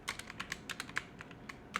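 Rapid keystrokes on a computer keyboard, close and clear, in a quick uneven rhythm of light clicks with no talking.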